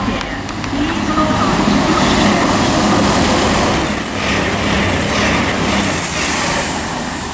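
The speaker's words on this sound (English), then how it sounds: "Passing through now is a Virgin Train service from Manchester Piccadilly to London Euston" A Virgin Trains service from Manchester Piccadilly to London Euston speeds non-stop through Watford Junction on the West Coast Main Line, a loud, close, sustained roar of wheels and rushing air with a high squeal.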